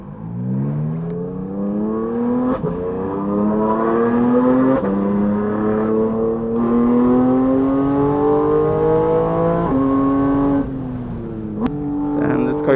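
A Porsche GT4 RS race car engine accelerates hard on a race track, its rising harmonic whine climbing steadily through gears with brief shift dips, loud and continuous from inside the cabin.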